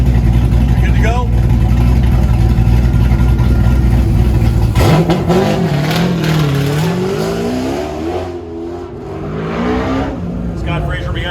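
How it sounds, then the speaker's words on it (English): A 1989 Corvette at an autocross event loudly revs and accelerates up close, its engine pitch sweeping up and down through gear changes while an announcer speaks over it. "Scott Frazier behind the wheel, that 89 Corvette"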